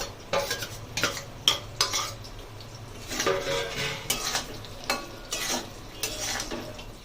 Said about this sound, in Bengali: তো আমার মশলা কষানো হয়ে গেছে